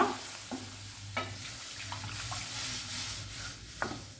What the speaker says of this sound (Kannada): ಈಗ ಸ್ವಲ್ಪನೇ ಹಾಕಿ ಇದನ್ನು ಮಿಕ್ಸ್ ಮಾಡುವ